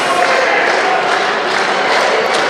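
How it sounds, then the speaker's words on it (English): A wrestling arena crowd roars and cheers during a standing ten count between Shane Douglas and 2 Tuff Tony, a loud, steady wash of voices with no break and no clear single speaker. "Crowd getting behind."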